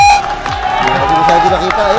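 A basketball arena crowd roars and cheers loudly, a broad sustained swell of whoops and shouting, with a voice talking over it.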